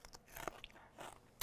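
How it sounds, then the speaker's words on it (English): Bite into a home-fermented pickle: a few crisp, close crunches and wet chewing sounds in quick succession, with no talk. "Crunch."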